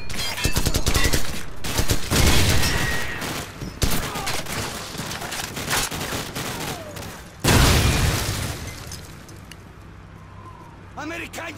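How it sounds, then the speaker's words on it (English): Dense suppressive gunfire in Call of Duty: Modern Warfare combat, with sustained bursts and rapid overlapping shots, loud and close, plus a sharp renewed volley late on; a voice speaks over the shooting. "Американцы делают попытку открыть подавляющий огонь"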